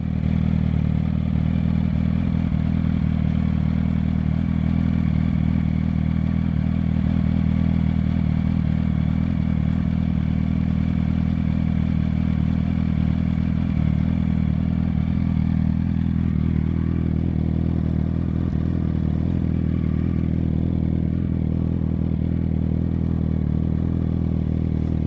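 2008 Yamaha R1 motorcycle with a Graves low-mount exhaust running close by, a loud steady idle with a deep throaty burble that settles slightly lower near the end, no voices.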